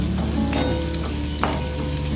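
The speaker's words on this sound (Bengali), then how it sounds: "পেঁয়াজ রসুন যখন ভাজা হয়ে যাবে তখন লঙ্কাটা তোমরা ফ্রাই করে নেবে" Chillies fry in a pan with restaurant-style chilli chicken preparation, a steady close sizzle with a couple of brief scraping stirs breaking through.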